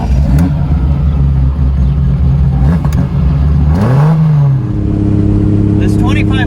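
TVR 2500M straight-six on triple Weber carburettors idling heavily, then blipped into a rising rev that falls back to a steady idle, loud and close, with someone talking over it.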